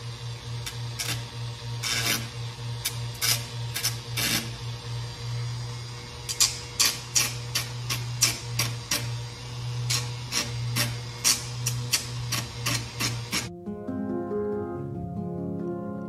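A rotary power tool runs at its lowest speed in a garage, rounding off the corners of a craft piece with a steady hum broken by repeated sharp grinding ticks, then stops, leaving quiet tapping.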